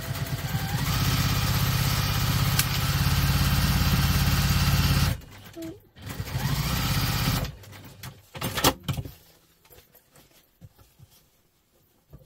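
A sewing machine runs fast and continuously while stitching a double-compartment crossbody bag, a loud steady mechanical whir, then stops and restarts in shorter bursts with clicks and handling noise before fading to quiet.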